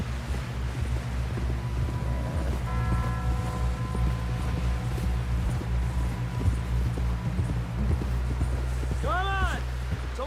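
A horse galloping in Red Dead Redemption 2, rapid hoofbeats running steadily under a character's raised voice calling out, with a brief melodic game sound near the end.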